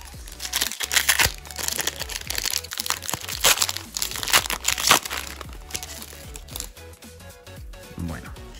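Foil booster pack wrappers of Pokémon Shining Fates cards are torn open and crumpled, close and loud bursts of crinkling and tearing, with cards shuffled near the end.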